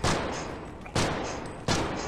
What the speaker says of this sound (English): just pull the trigger to shoot